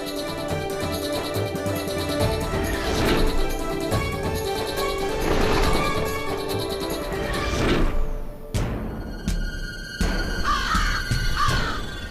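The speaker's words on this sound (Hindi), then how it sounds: "एकाएकी काक कहाँ से आ गए?" Crows cawing loudly and repeatedly in a dramatized mythological setting, harsh calls rising over continuous background music with a crash-like hit midway.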